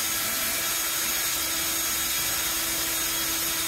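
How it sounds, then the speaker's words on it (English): A drill bores out a lower bolt on an off-road KRX side-by-side during a fender flare install, a steady, loud whirring grind that holds without pause. "I'm going to drill that lower one out"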